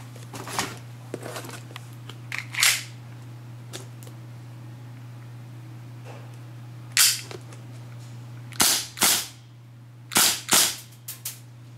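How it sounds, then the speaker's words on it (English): An airsoft pistol fitted with a silencer fires green-gas shots as sharp, close cracks. A few single shots come early, then quick pairs and bursts follow, with a steady low hum underneath and mechanical clicks between shots. "when you're shooting it, the noise won't have a big difference"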